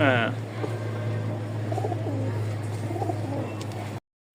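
Pigeons of the Rajshahi giribaz breed coo softly in repeated low phrases at a bird market in Mirpur-1, Dhaka, under steady background hum with faint chirps.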